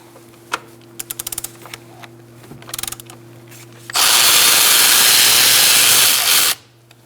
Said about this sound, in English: Using a 10mm and an extension, I'm going to take out these two bolts